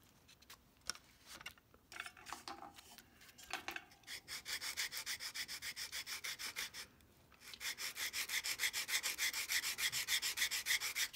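Wooden stock piece of a swivel breech rifle kit being beveled and contoured by hand, first with irregular scrapes, then long runs of fast rhythmic rasping strokes, close and alone.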